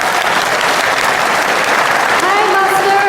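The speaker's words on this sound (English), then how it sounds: "let's now welcome Supreme Master Master 칭하이 칭하이. with a warm round of applause" Warm audience applause at the opening of a video conference in Jakarta, Indonesia, a steady dense wash of clapping throughout, with a faint tone and stray voices emerging near the end.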